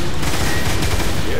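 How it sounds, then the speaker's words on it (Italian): Planetary cannons fire in the video game Transformers War for Cybertron, a dense barrage of loud booming shots and explosions packed tightly together, with game voices mixed underneath. "Attiva i cannoni planetari."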